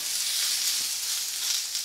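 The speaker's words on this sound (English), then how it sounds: "So get your vegetables onto a nice hot either griddle pan." Courgette and aubergine sizzle on a hot griddle pan with a steady, bright, hissing crackle close by, even and unbroken over a brief stretch.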